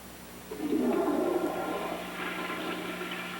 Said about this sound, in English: And flush the toilets as needed.